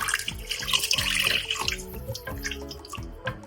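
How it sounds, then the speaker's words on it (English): Water poured gradually into spicy, tangy Sindhi kadhi curry batter while it is stirred, a steady close splashing and trickling with wet mixing sounds throughout. "I'm going to gradually add in about a liter of water into this"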